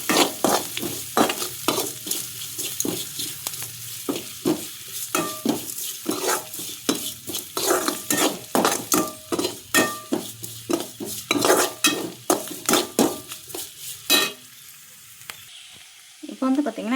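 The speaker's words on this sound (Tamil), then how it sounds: "வெங்காயம் நல்லா வதங்குற வரைக்கும்." Onions frying in oil for a poori masala, with asafoetida added, stirred briskly by a spoon that scrapes the pan in quick repeated strokes over a steady close sizzle. The stirring stops near the end.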